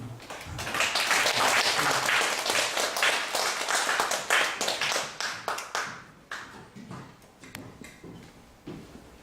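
A church congregation claps to welcome a missionary pastor, loud dense clapping at first that thins into fewer, separate claps before fading out.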